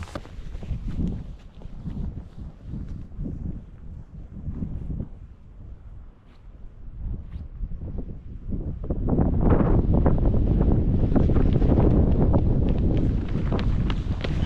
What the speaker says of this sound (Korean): 바람이 장난 아니게 불구만 부는만